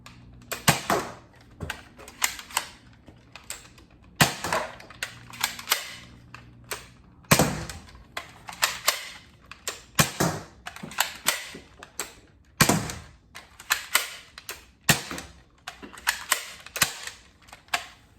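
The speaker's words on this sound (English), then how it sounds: "So this doesn't have slam fire, I don't think, but the Magnum actually does." A Dart Zone Magnum X2 toy blaster is slam fired in rapid bursts, sharp plastic clacks and spring thumps with the pump action clattering between shots, close and loud, alone without talk.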